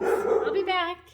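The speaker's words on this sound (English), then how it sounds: "Sorry, that's my dog." A pet dog barks in a home kitchen with a few sharp, nearby yaps mixed in with a person's speech before fading out.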